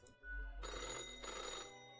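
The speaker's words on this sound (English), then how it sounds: "The old-fashioned phone again rings right as you settle in." An old-fashioned telephone rings in the video game Death and Taxes, a bright bell burst that rises suddenly and rings on for over a second before fading, fairly quiet and alone.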